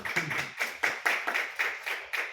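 Applause at a Spanish poetry reading, heard as a sequence of loud, separate slaps at a regular beat, about eight in all, close by and clear, with no other sound between them.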